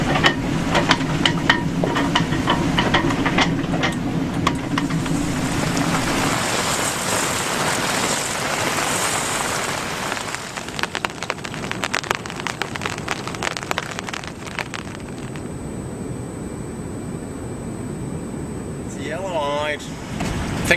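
Wind and rain batter a sailboat anchored at sea at North Minerva Reef, a loud, continuous rushing hiss with scattered rattling hits, easing slightly in the later part, with a brief voice-like sound near the end.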